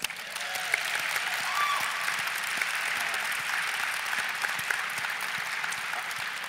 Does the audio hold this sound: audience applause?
yes